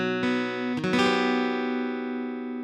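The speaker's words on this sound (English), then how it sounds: "It's a guitar that's out of tune" A six-string guitar out of tune sounds a sustained strummed chord with a sharp second strum partway through, the jarring ringing tones slowly fading, alone and close.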